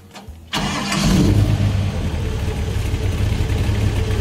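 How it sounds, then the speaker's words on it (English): A Florida Everglades airboat with an airplane propeller at the stern and a Chevy engine cranks up, then settles into a loud, continuous roar with a steady low drone, close by and without talk. "It has an airplane propeller at the back of the boat."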